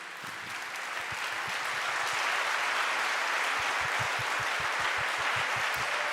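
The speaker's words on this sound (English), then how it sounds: "Let's have a huge round of applause" A large crowd at a conference stage applauding steadily, dense clapping that swells slightly and holds at a full, even level throughout, with no voices on top.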